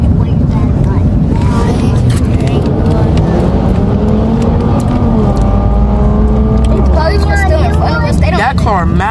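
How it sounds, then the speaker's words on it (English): A loud engine rumbles close by and slowly rises as a car passes, with people talking over it and voices rising near the end. "That car mad slow to be mad loud."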